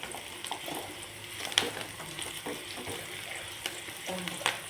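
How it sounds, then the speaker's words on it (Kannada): Onions frying in oil in a pot on the stove sizzle softly and fairly quietly, with scattered stirring scrapes and light clinks throughout. "ನಾವು ಈರುಳ್ಳಿನ ಚೆನ್ನಾಗಿ ಫ್ರೈ ಮಾಡ್ಕೊತಾ ಇದ್ದೀವಿ."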